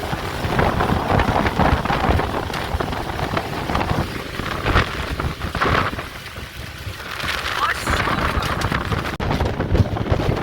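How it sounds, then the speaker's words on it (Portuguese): Rain and gusting wind at Lençóis Maranhenses buffet the microphone in a loud, dense wash, with heavy rumbling gusts that ease briefly midway before building again. "é chuva e é água. Oh, e é água do rio. É um vento."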